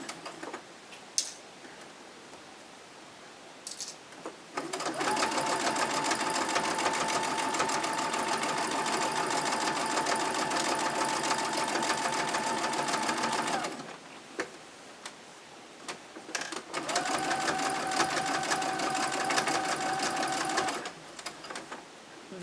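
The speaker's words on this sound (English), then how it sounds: "Those points I'm sewing here without stopping, they are quite curvy" A sewing machine stitches the curved points of an exposed-core cloth pad with a PUL backing. It runs in two continuous bursts, a long run and then a shorter one, with quiet pauses before and between them.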